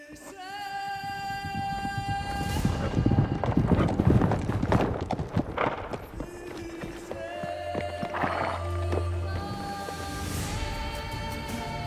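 Horse hooves in the video game Witcher 3, rhythmic clip-clop of hoofbeats mixed with game sound effects and tonal music, with bursts of louder clatter and a voice briefly audible.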